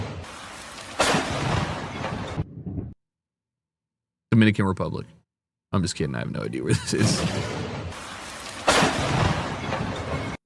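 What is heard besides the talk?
thunder and rain during a tennis match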